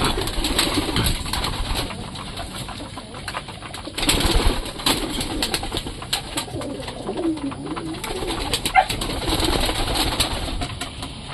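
Pigeons in a backyard pigeon loft make low, murmuring coos over a steady outdoor hum, with occasional flutters and soft knocks close by.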